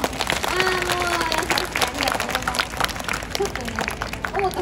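Applause from a school music festival audience, clapping mixed with crowd noise and talking voices, with some musical or tonal sounds running underneath throughout.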